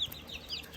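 A batch of chickens being moved outside among ducks and turkeys, giving faint, brief clucks at a distance, a couple of soft calls in under a second.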